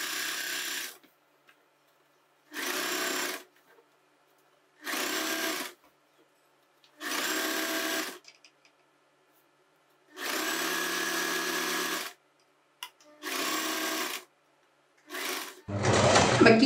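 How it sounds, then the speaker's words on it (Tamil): Domestic sewing machine stitching the side slit of a churidar, with seven separate close bursts of steady whirring and quiet gaps between them, then a louder rustle at the end. "இந்த ஓரமாகவே நம்ம வந்து அப்படியே ஸ்டிச் பண்ணிட்டே வரலாம்"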